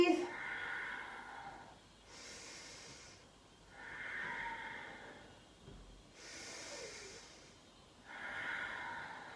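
Slow, audible breathing during a yoga class in crow pose: long inhales and exhales in a steady rhythm, close and soft, with no talking.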